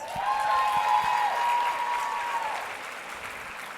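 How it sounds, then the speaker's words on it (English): An audience gives a sustained round of applause for people who just came up on stage at a motivational speech event, a dense steady wash of clapping that slowly tapers, with a faint tonal hum running underneath. "So can we give them another round of applause?"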